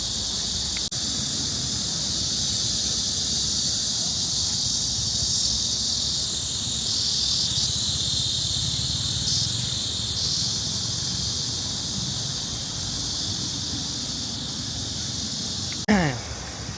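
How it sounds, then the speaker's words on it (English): Outdoors in Tokyo, cicadas drone in a loud, steady, continuous buzz that fills the whole stretch without a break, with a brief rustle near the end. "as I was saying before I got rudely interrupted by cicadas or whatever they're called, cicadas."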